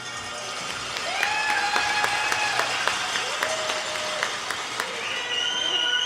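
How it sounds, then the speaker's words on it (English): Steady applause from a curling crowd at a championship, sustained and fairly loud, with whistle-like tones and scattered sharper claps rising above the clapping. "let's give a warm round of applause to the 8 men's and women's championship teams"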